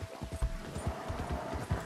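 A horse's hooves clop at a steady trot in the Red Dead video game, a rhythmic run of muffled thuds over a constant background drone with a faint steady tone.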